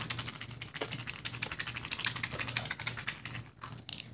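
Homemade egg carton maracas being shaken, giving a dense, fast rattling patter of small loose filling, close and steady, quiet, with no talk.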